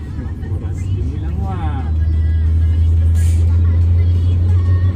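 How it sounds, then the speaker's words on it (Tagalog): A new car is heard from inside while driving, a steady low engine and road hum that grows slightly louder, with people talking over it. "nandito po kami sa bagong kotse"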